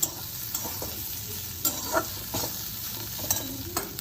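Bitter gourd being stir-fried in a pan with crushed peanuts added, a steady hissing sizzle broken by a few sharp scrapes and clinks of a spatula against the pan, close and moderately quiet.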